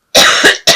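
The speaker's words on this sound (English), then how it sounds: "I'm so sorry about this cough." Several harsh, loud coughs from a woman, close up: two joined bursts followed by a third sharp cough after a short gap.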